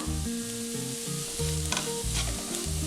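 Vegetables and spice powders, including garam masala, fry in a pan for vegetable biryani, a continuous close sizzle with a few stirring scrapes and music playing underneath.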